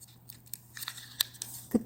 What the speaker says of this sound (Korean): 이 선을 기준으로 옆으로 접어주는데